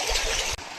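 River stream flowing near a waterfall, a steady broad rush of water that cuts off abruptly near the end, leaving a softer wash.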